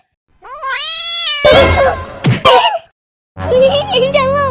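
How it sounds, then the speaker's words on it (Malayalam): A cartoon cat in an animated comedy lets out a long, loud, close meow, then a harsh yowl and a thump, and after a short pause a second drawn-out meow. "വെറും പൂച്ചയായിരുന്നു ഉള്ളതെന്ന്?"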